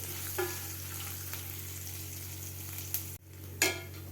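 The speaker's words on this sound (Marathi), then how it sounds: "आता व्यवस्थित आपल्याला स्लो गॅसवर व्यवस्थित हे फ्राय करून घ्यायचं आहे व्यवस्थित." Peanuts fry slowly in a pan on low gas for lemon rice, a soft, quiet sizzling hiss with occasional light clicks and scrapes of a spoon against the pan.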